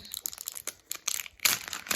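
Small plastic wrapper from an LOL Surprise ball crinkles and crunches in bursts as it is handled and opened, close and fairly loud, with no talk.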